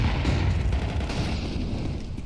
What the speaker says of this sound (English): Nade right into Boiler does extensive early damage.